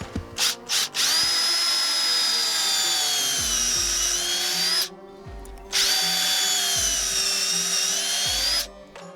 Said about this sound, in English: Drill on a little bit of an upward angle.